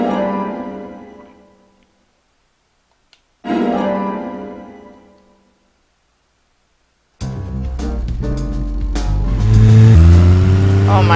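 A car engine in the video game Deadly Premonition revs loudly, a rising mechanical drone with shifting pitch and gear changes, following two earlier tones that swell and fade before the driving sound begins.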